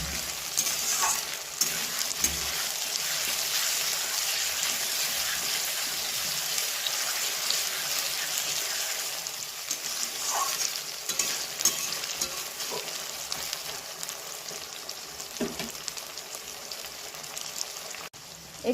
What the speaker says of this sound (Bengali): দিয়েছি পেঁয়াজ, টমেটো, ক্যাপসিকাম, বড় লঙ্কা, আদা রসুনের পেস্ট সব কিছুই আমি দিয়ে দিয়েছি। এখন আমি মশলাটা তৈরি করে নেব।